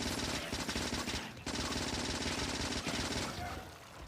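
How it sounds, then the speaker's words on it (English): Turrets in the video game Factorio fire bullets at an enemy nest in dense, rapid automatic bursts, loud and continuous with only brief breaks. "That bullet shooting speed is so nice now. Oh yeah, this nest is just melting."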